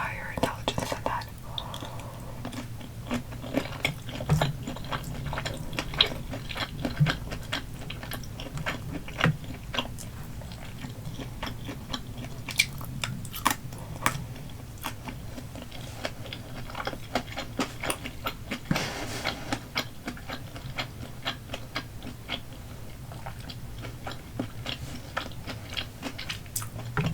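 Spicy salmon poke bowl being eaten up close, with soft wet chewing, bites and occasional crunchy clicks scattered irregularly throughout, while a whispering voice murmurs over much of it.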